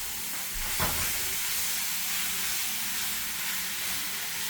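Washed, cut steak strips hitting a hot pan, a sharp burst of contact followed by a loud, steady hissing sizzle that holds evenly and close for several seconds.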